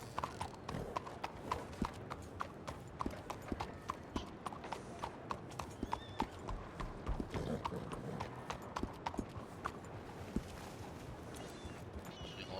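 Horse hooves trot in a steady, rapid clip-clop rhythm across a western-themed video game, continuous and fairly close, with occasional faint talk underneath.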